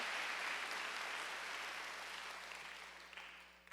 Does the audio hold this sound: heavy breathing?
no